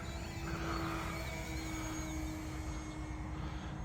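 An E-flite Decathlon RC airplane's electric motor is held upside down and run at about three-quarter throttle early in the morning, a steady, fairly faint propeller buzz and drone with a thin whine above it, unbroken throughout.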